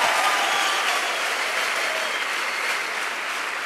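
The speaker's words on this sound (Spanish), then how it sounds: "Vamos, dale bien fuerte ese aplauso a Jesús." A church congregation applauding, a dense, even roar of clapping that holds steady and tapers a little toward the end.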